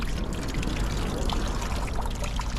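Water running steadily from a sewage problem on East Prospect Street, St. Thomas, a continuous rushing trickle that stays loud and unbroken throughout, with no voices over it.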